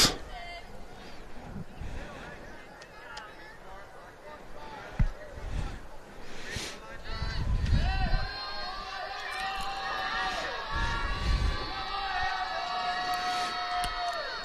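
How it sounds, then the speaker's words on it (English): Warrenton crowd noise at a high school softball game, a loose hubbub of cheers and shouts rising and falling in the distance, with a commentator talking over it. "A lot of noise from the Warrenton crowd."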